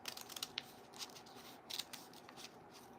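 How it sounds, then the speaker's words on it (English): Scissors snipping along a drawn line to cut a paper spiral from a sheet, a series of short, soft, crisp cuts at an irregular pace, faint and close, with no talking. "So you're going to cut on the line, cut your spiral out."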